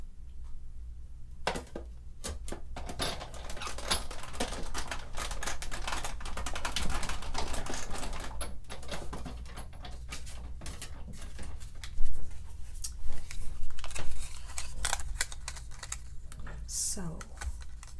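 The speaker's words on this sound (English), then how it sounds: "I'm going to run that through my cutting machine and cut a hole in that cardstock" An electronic cutting machine cuts cardstock, whirring and clattering continuously with rapid ticking and tapping, steady and close, with some louder clacks near the end.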